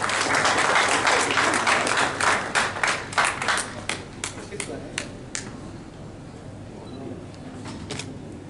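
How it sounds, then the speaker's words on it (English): Audience applause at an industry award ceremony for auto parts manufacturers, loud sustained clapping from a crowd that gradually thins into scattered individual claps and fades out. "A big applause for them."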